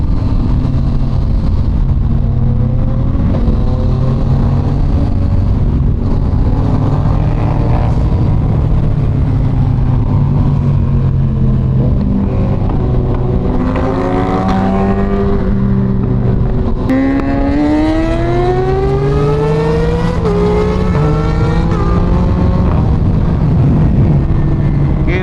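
Yamaha MT-09 motorcycle engine revving hard during a wheelie, a loud continuous roar with rising and falling pitch sweeps, heard close up over wind and road noise.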